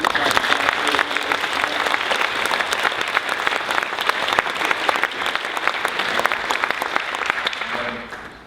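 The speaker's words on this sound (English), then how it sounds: "I'd just like everybody to give a round of applause for these people" An audience at a Fighting Fantasy seminar at the Dragonmeet 2012 convention breaks into loud, sustained applause for several seconds, a dense wash of clapping that fades out at the end.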